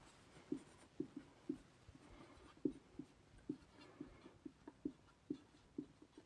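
A pen scratches out numbers by hand, heard as a run of short, soft, evenly spaced strokes and taps, close and quiet, with no talking.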